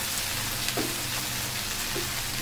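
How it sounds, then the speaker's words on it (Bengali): Okra, or lady finger, frying slowly in a pan gives a steady, close sizzle with faint stirring scrapes, alone with no voices. "এখন এটাকে আমি ভাজি হতে দিব আস্তে আস্তে"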